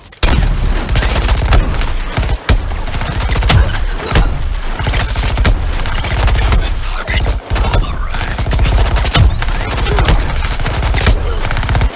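Gunfire in Suicide Squad Kill the Justice League, a relentless loud barrage of rapid automatic shots and blasts, continuous and close with only momentary breaks.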